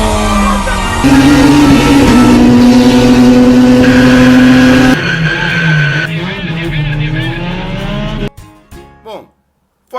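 Formula 1 race intro jingle built from loud race car sounds, with engines roaring and tires squealing continuously for about eight seconds before breaking into a few short bursts and cutting to silence.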